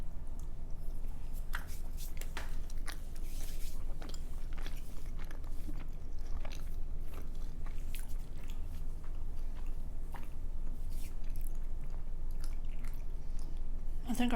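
Close, wet chewing of sweet mochi filled with marshmallow and strawberry jam, soft squishy bites and mouth sounds running throughout, with a person talking over them at times.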